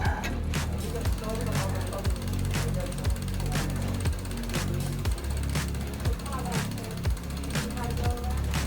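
Bolts on an SE Bikes Beast Mode Ripper are tightened with a hand tool, giving a steady run of quick, close ratcheting clicks that repeat in short bursts over a low background hum.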